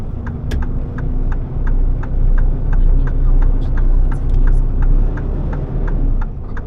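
A car engine hums steadily at close range as the vehicle pulls away and drives off, with a faint repeating tick running over the low, even drone.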